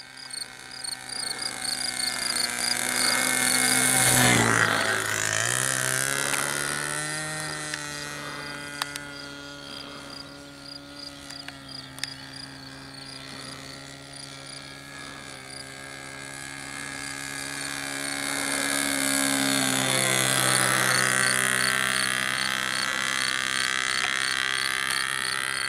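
A Cessna 177 Mini Cardinal RC nitro model plane with a 1.73 m wingspan buzzes through the air on its maiden flight, its small engine whining steadily and swelling as it passes closer, then fading and rising again.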